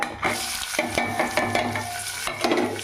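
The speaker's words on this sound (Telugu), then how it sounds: "అవి కూడా బాగా వేయించుకుందాం." Tomato, onion and whole spices (cinnamon, cardamom and cloves) fry in a pan for an Andhra-style country chicken curry, with a steady close sizzle broken by repeated scraping strokes of a stirring spoon.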